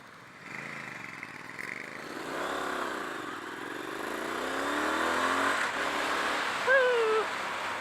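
A 2018 Triumph Street Scrambler motorcycle pulls away, its engine revving up through several gears with rising and falling pitch, close and fairly loud, with a faint voice near the end.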